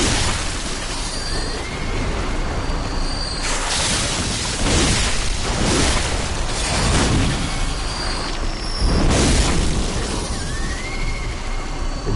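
Video game explosions: several loud bursts of broadband noise arrive in quick succession over a busy, constant game background, each blast swelling and fading within a second or so.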